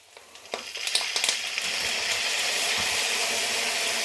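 Prawn pad thai in a hot pan starts with scattered clinks and scraping stirs, then settles into a loud, continuous close-up sizzle.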